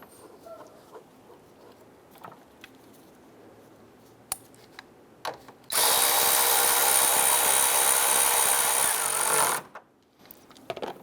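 A power tool runs steadily for about four seconds, snugging a bolt near the airbox during a low beam bulb replacement on a 2005-2010 Chrysler 300, with faint clicks and handling noises before and after.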